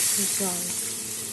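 Water poured into a pan of fried spice masala for raw-banana kofta curry sets off a loud burst of hiss and sizzle that quickly settles into a steady, fading sizzle.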